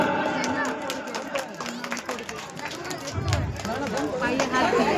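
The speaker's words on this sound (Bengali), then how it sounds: "একটু জোরে হাততালি।" An audience claps at an awards ceremony during a spring festival, steady scattered applause mixed with crowd chatter and voices talking nearby, continuing throughout.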